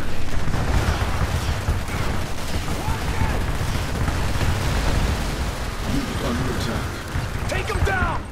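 Dense battle din from Command & Conquer Tiberium Wars, with rocket launches and gunfire blending into a continuous roar of explosions and shots, loud and unbroken throughout, while voices talk over it.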